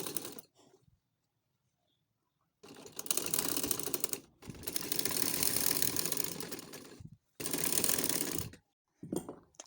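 A sewing machine stitches a bias strip onto a frock in several loud mechanical bursts of rapid whirring and clatter, separated by brief silent pauses, with no talk.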